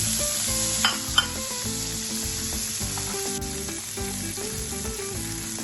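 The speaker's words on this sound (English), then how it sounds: "For this I have put 1 tablespoon of butter and now we will put the carrots in." Carrots sizzling in a tablespoon of melted butter in a pan, a steady close frying hiss with rhythmic stirring scrapes and two brief sharp clinks early on.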